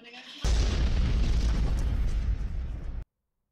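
A sudden loud explosion with a deep rumbling boom that sustains for a few seconds, then cuts off abruptly into silence.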